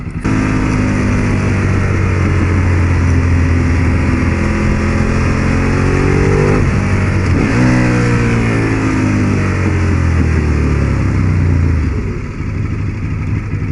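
A Ducati 848 sports motorcycle engine on a ride, steady loud drone that rises in pitch through the gears, drops sharply around a shift, then climbs again before easing off near the end; no talk.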